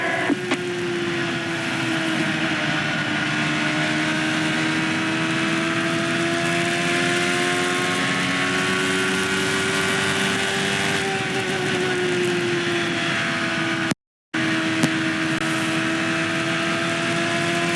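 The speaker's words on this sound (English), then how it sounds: "Beautiful sounds of this near 800 horsepower Ford Cosworth motor." A near 800 horsepower Ford Cosworth engine in a Champ Car screams along a track during a 2004 race. The loud, sustained high-revving tone rises and falls slightly, with a brief dropout near the end.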